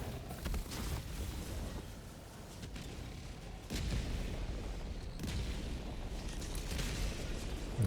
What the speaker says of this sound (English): So, just a walk-in barrage